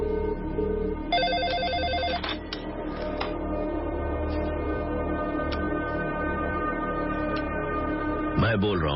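A telephone rings in repeated electronic bursts, a steady ringing pattern under low background noise, with faint voices in the background.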